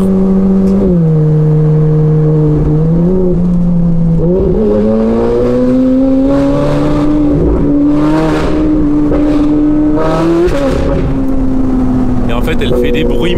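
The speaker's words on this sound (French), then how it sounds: "Elle fait des bruits, mais on comprend rien à ce qui se passe dans le moteur." A Ferrari fitted with a stainless steel straight exhaust revs hard and loud up close, its engine note climbing and falling in repeated sweeps with sharp, raspy bursts.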